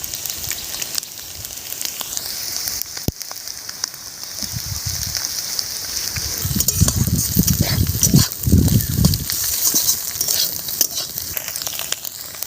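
A small amount of oil sizzles softly in a pan, with close bursts of stirring and crackling that grow louder midway and then ease off.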